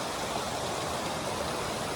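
Kilby Creek flowing, a steady broadband rush of running water with no break or variation, close and even throughout, with no voices.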